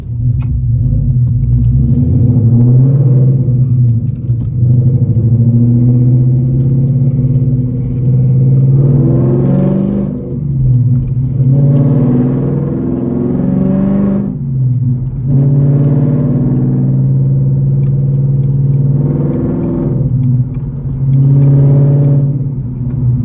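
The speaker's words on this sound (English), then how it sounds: "I'm gonna rev this bitch up. I'm gonna slide it. I'm gonna rev match it." A Ford Coyote V8 engine with bolt-on modifications revs repeatedly in a steady low rumble, rising and falling in several surges about every few seconds, loud and close.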